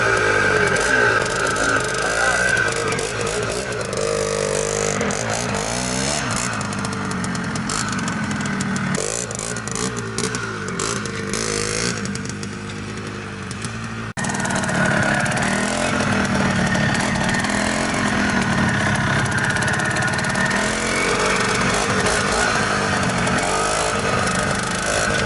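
1974 Penton-KTM Hare Scrambler, a 250cc two-stroke six-speed trail bike, being ridden with a loud, raspy, continuous engine drone that rises and falls with throttle, briefly easing then revving back up.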